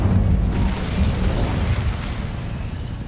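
An Incendio fire spell bursts in Hogwarts Legacy with a loud, dense roaring whoosh that rumbles steadily for a few seconds and fades slightly, with no voices.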